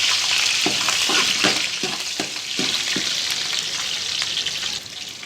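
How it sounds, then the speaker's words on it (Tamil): Curry leaves, green chili and garlic sizzle steadily in hot oil while being stirred for a Tamil okra puli curry, with a series of regular scraping stir strokes over the constant bright frying hiss, close and fairly loud. "நல்லா கிளறி விடுங்க."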